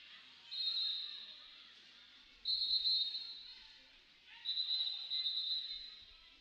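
Referee whistles at a roller derby bout: three long, shrill blasts at moderate distance over a low, steady arena background.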